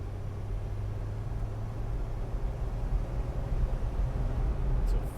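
A 2006 Jeep Wrangler TJ with 17k miles drives along with a steady, low engine drone and road rumble, heard from inside the cabin as it moves through its gears.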